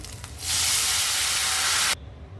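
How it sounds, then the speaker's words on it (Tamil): Tamarind water poured into a hot pan of sautéed onion and garlic for sundakkai vatha kulumbu, bursting into a loud, sustained hissing sizzle for about a second and a half before cutting off abruptly, close up with no talking. "இப்போ புளித்தண்ணி சேர்த்துக்கிறேங்க."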